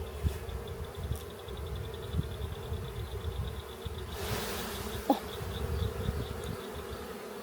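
A steady, continuous buzzing of many honeybees swarming close by during an apiary hive inspection, with a brief spoken exclamation partway through.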